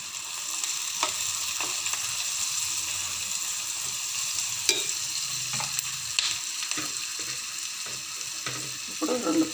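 Chopped onions with salt sizzle steadily in hot oil for a Kerala-style egg curry, a continuous bright hiss with occasional spoon scrapes and taps against the pan.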